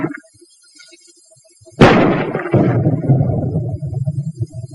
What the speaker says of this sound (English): At ranges up to 200 yards, armor-piercing ammunition can smash through this kind of wall any time